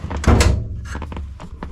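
Power door locks on a 1971 Chevelle actuate with one loud mechanical thunk, followed by a few softer clicks and rattles inside the car.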